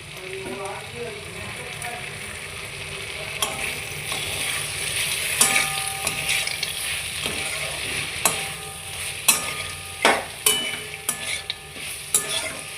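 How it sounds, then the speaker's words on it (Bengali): Fried lentil bori being stirred into a bottle gourd curry cooking with spices. A spoon scrapes and clatters against the pot in repeated strokes over a soft, steady simmering hiss, and the knocks grow sharper toward the end. "একটু ভালো করে বড়িটাকে মিশিয়ে নেব।"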